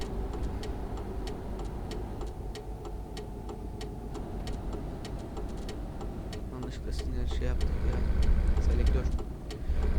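A Mercedes Actros truck driving in Euro Truck Simulator 2, a steady engine drone with a regular ticking indicator on top, the engine rising in loudness near the end, while someone talks over it.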